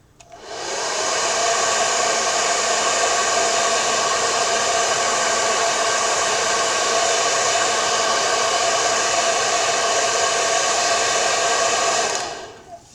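A hair dryer blows steadily on a wooden Halloween ghost sign, drying paint on its eyes and mouth; a loud, constant whooshing hum runs unbroken for about twelve seconds with no talk.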